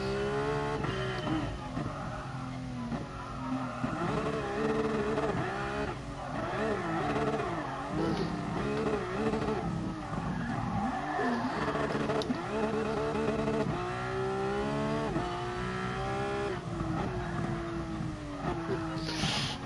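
Car engine in GT Sport held at high revs while drifting on the Nordschleife, loud and continuous with repeated rising and falling pitch sweeps through gear changes, with no voice over it.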